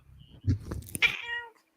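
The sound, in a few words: cat meowing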